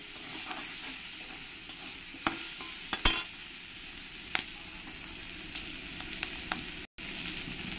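Potatoes and green chillies frying with salt and turmeric in a pan, a steady close sizzle broken by sharp scrapes and clinks of a stirring spoon every second or so, with no talking.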